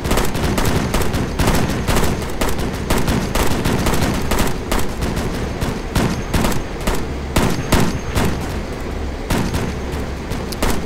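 Dense rapid gunfire during an infantry patrol game engagement, continuous bursts of loud close shots and rattling automatic fire with no pauses for over ten seconds.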